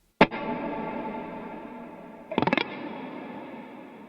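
Electric guitar run through a Jet Revelation overdrive into an Eternity pedal with reverb, both set at noon: a struck chord rings out with a long, thick sustain, then a quick flurry of notes blooms into the reverb tail.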